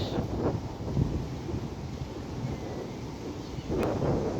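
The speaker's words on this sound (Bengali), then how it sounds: "অনেক বাতাস" Strong seaside wind at Jeddah buffets the microphone in low, uneven gusts, a continuous rumbling roar with no speech.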